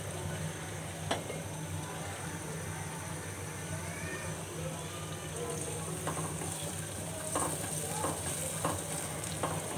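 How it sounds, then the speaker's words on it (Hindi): Semolina roasting in ghee in a pan gives a steady, soft sizzle with occasional stirring scrapes, fairly quiet and continuous with no talk. "सूजी जो है अच्छे तरीके से घी में भून ली है"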